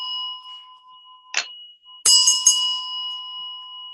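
A small bell closes a winter solstice ceremony: one soft ding, then a pair of bright rings in quick succession that fade with a lingering tone over a faint sustained hum.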